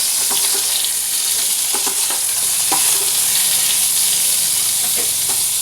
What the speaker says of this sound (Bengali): আলুটা কপিটা একটু ভেজে নেব